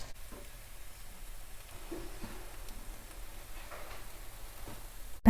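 Sago (javvarisi) paniyaram frying in a pan, a low, steady sizzle with scattered faint ticks and pops, quiet and close, with no talking.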